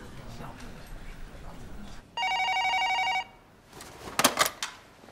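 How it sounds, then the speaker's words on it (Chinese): A telephone rings in one steady electronic burst lasting about a second, loud and close. Soft background murmur and movement come before it, and a clattering of handling noises follows. "陆指导电话。"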